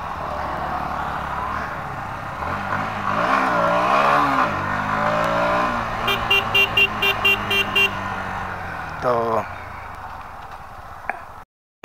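A Yamaha MT-15 motorcycle engine revs up and settles into a steady drone before a final throttle blip and cutoff, loud and close, with no talking.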